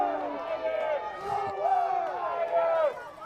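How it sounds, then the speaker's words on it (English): A crowd at a high school playoff softball game makes noise, with excited shouts and cheers rising and falling in the stands and people calling out through the din. "I think the crowd has come to life to make a lot of noise, and certainly that's what you're hearing here"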